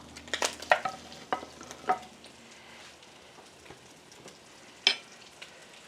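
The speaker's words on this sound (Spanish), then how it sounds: "Ahora voy a poner el chorizo, que se dore." Chorizo in a pan gives a soft sizzle under a run of sharp scraping stirs clustered near the start, then a single loud stir a few seconds later.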